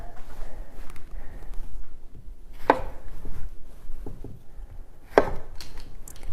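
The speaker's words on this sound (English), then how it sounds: "Chop them into halves." A kitchen knife cuts lemons in half on a cutting board, giving two distinct sharp chops a few seconds apart over a low background hum.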